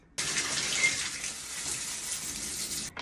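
Water from an aromatherapy shower head, fitted with a tea tree and lavender capsule, sprays in a steady broadband hiss that starts abruptly, runs close and even for nearly three seconds, then cuts off.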